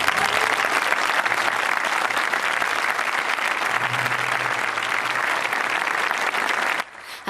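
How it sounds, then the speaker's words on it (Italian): Opera audience in a packed theatre applauding mid-scene during the Va Pensiero chorus of Nabucco at Tindari, a loud, dense, sustained ovation of many hands that stays even throughout and drops away at the very end. "il pubblico interrompe la scena con un applauso che dura diversi minuti"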